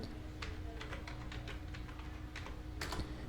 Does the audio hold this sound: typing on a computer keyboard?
yes